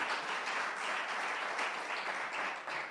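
A crowd applauding steadily, a dense wash of many hands clapping at moderate volume throughout, with no voices standing out.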